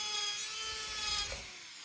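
White resin is shaved off a temporary dental splint for teeth 42 and 43 with a small carving tool, giving a continuous close, fine scraping and rasping hiss that eases off near the end.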